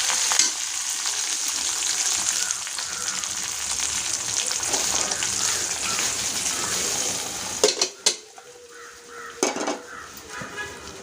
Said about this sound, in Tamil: வடகம் சேர்த்துட்டு கருவேப்பிலை சேர்த்துக்கலாம்